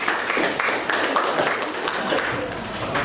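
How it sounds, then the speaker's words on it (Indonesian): A classroom of students gives a group a round of light, scattered applause, irregular clapping from a modest crowd heard at a moderate distance for a few seconds. "berikan tepuk tangan untuk kelompoknya Syangga"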